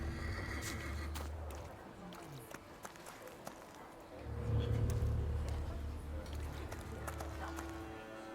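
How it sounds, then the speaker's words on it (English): A horse neighs in The Thaumaturge video game, a loud low whinny surging midway over running hooves and ambient game sound, with voices talking around it. "I meant to take the horse out for a run"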